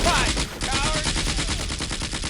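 Rapid machine-gun fire in the World War II tactics game Combat Mission: Afrika Korps: a fast, steady rattle of repeated shots, loud and sustained from start to finish.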